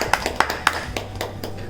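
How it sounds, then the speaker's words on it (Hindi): Listeners at a Navratri poetry gathering clap briefly, with a handful of distinct, fairly loud hand claps spaced unevenly across a short stretch and a low hum beneath them. "जोरदार तालियां।"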